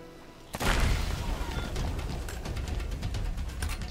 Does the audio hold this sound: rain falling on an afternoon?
no